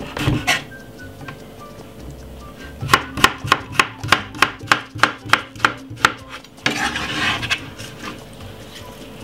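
A knife chopping a medium-sized cucumber on a cutting board, a quick run of about a dozen crisp, evenly spaced strokes up close, with quieter handling noises before and after.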